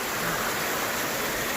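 Fast-flowing water rushes down a channel in a secluded forest, a steady broadband roar that fills the short stretch evenly and continuously, close by with no voices over it.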